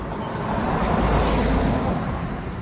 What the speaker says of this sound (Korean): 차 소리가 많이 들리죠 여러분